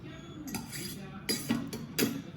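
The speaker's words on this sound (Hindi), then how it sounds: "पैलेट नाइफ से इस तरह से मिक्स करूँगी" A palette knife working strawberry cake cream in a bowl, with a few soft scrapes and light clinks against the dish close by, sparse and irregular.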